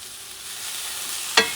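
Collard greens sautéing in a pan over medium heat for Brazilian couve à mineira, a close, steady sizzle capped by one sharp clink near the end.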